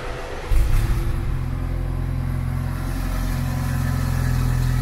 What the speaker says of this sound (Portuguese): Vamos dar a primeira partida para ver se mudou alguma coisa de ronco.